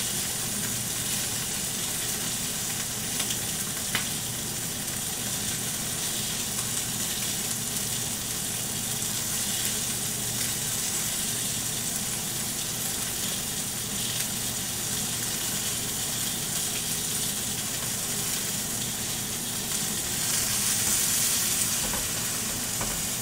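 Chicken searing in a pan for a braise or stew, a steady, loud sizzle and spitting of fat that holds evenly for over twenty seconds, with no talking over it.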